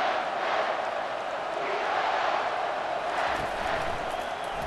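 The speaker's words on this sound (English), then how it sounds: "this crowd is tearing the lid off this place" A stadium crowd cheers in the College Football 25 video game at a UCLA at Penn State matchup, a loud steady roar with swelling surges throughout.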